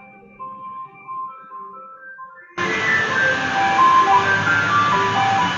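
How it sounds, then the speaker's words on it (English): An ice cream truck's jingle plays loud and steady, a bright tinkling melody that begins faintly over a quiet background and then swells abruptly into a full, dense tune. "Actually, there's ice cream man, people."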